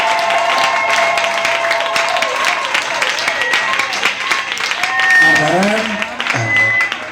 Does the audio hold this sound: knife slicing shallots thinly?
no